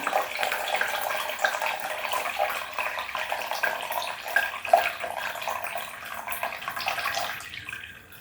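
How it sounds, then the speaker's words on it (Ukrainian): Water pours and drains from an orchid pot in a steady, close rush, running continuously before tapering off and stopping near the end. "Я повністю зливаю всю воду"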